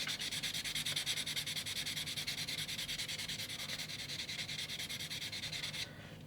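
Fine 1000–1200 grit self-adhesive sandpaper block rubbed back and forth over a curved surface, a soft rhythmic scratchy rasp in quick even strokes, close and quiet, with no talk.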